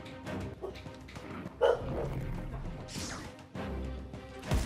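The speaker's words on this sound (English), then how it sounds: "you notice our dogs never shut up" Dogs barking at home, with several loud barks and yips in irregular bursts, some close and sharp, over background game sounds.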